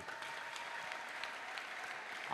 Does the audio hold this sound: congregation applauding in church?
yes